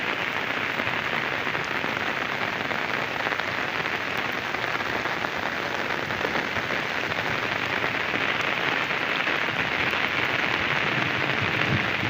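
Heavy rain falls without pause over a farm with a bull and flooded ground, a thick even wash of drops hitting nearby surfaces, loud and constant, no one talking.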